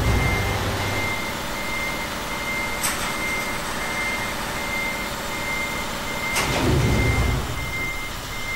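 Heavy truck in the Euro Truck Simulator 2 driving game, its engine a steady low rumble throughout while a faint repeating reversing beep tone sits above it, with a couple of brief sharp knocks.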